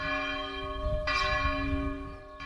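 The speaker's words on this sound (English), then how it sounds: "The bell is loud." A church bell in Spain rings with a sustained ringing tone, and a fresh strike lands partway through the bell's decay. It sounds moderately distant and there is no talking.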